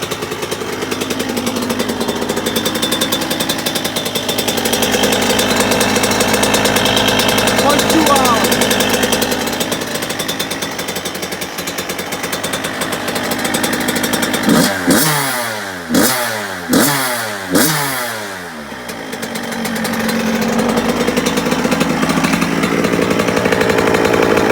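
A 2003 Suzuki RM85 two-stroke dirt bike engine idles steadily, buzzily and a bit high up close, with a few brief revs in the middle before settling back to idle.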